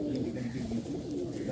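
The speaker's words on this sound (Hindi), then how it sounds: "बड़ा ही जिसे कहते हैं नायाब कबूतर है" A prized pigeon coos in a low, throaty murmur, the soft rolling calls repeating close by amid other birds at a fancier's loft, with a voice talking over them.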